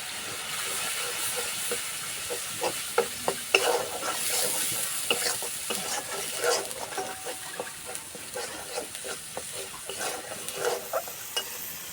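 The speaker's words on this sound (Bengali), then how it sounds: "মশলা কষানো হয়ে গেছে মশলা থেকে তেল ছেড়ে গেছে" Chili, cumin and turmeric powder frying in hot oil while being stirred, a continuous close sizzle and hiss broken by repeated scraping strokes of a spoon in the pan.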